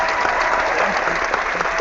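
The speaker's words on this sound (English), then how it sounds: "Round of applause. Round of applause." Loud, dense applause from a crowd, steady clapping filling the whole moment.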